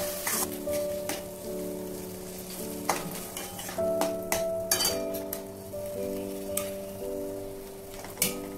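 A spoon stirs milk powder into a simmering egg curry in a pan, with repeated close metallic clinks and scraping over a steady sizzle, no talking.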